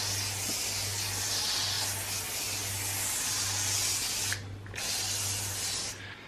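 A pump spray bottle sprays a homemade lanolin rust-prevention mix in a long steady hiss, briefly stopping and resuming, with a low pulsing hum underneath.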